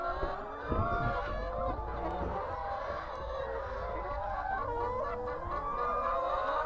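Around 250 hens on a farm, their clucking and fowl calls a dense, steady chorus close by, with scattered louder calls standing out from the flock.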